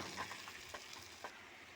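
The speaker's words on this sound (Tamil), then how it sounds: "வெங்காயம், பூண்டு, தக்காளி, பச்சை மிளகா, மிளகாத்தூள், உப்பு, கொஞ்சம் மஞ்சத்தூள் போட்டு நல்லா இந்த அளவுக்கு வதக்கிக்கணும்." Steady soft sizzling of onion, garlic, tomato and green chilli sautéing in oil with spices, light clinks of stirring, fairly quiet and continuous, no voices.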